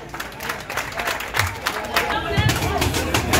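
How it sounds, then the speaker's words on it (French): Crowd applause at the final of a karate open tournament in Dakar, loose, uneven clapping close by, with voices and crowd noise mixed in. "que je vous demande d'applaudir très fort."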